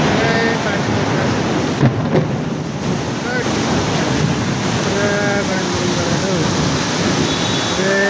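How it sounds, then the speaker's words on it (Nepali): Heavy rain pours down in a dense, loud, unbroken roar throughout, with faint voices and a couple of brief knocks buried in the wash of noise. "फेरि पानी परेको अहिले"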